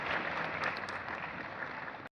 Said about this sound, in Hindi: आपकी तालियों की आवाज जरूर आनी चाहिए